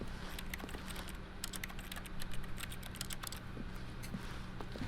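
Rapid computer keyboard typing, many keys pressed in quick irregular bursts, close and clear over a low background hum, with no speech.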